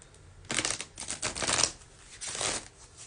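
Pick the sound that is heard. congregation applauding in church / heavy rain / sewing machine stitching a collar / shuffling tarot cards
shuffling tarot cards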